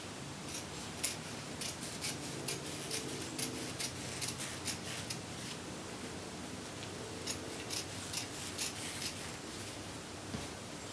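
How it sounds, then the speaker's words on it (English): Scissors snip through several layers of shirt fabric around pleats, a series of soft, regular crunching cuts at close range over a quiet background. "Careful when you get to the pleats because you're going to want to cut through all the layers."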